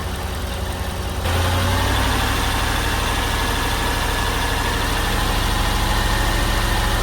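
A Mercedes car engine idles with a steady loud rumble during an air conditioning check, stepping up to a fuller, heavier drone after about a second and holding constant.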